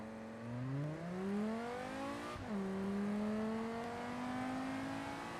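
An Audi S8 accelerating in BeamNG, its engine climbing in pitch, dropping sharply at a gear shift, then rising steadily again, loud and continuous with no talking.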